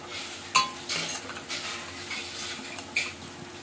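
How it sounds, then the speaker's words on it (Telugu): Spoon stirring spices into yogurt in a bowl, soft scraping and clinking strokes repeating at close range, quiet, with no talk. "పెరుగు అయితే కలిపేసుకోవాలండి"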